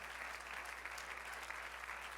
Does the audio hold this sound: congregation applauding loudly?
yes